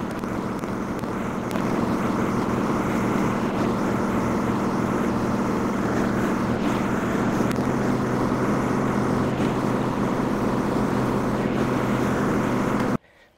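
A lawn mower's engine drones steadily and loudly while it cuts overgrown grass on a lot strewn with water meters and hard waste, then cuts off abruptly near the end.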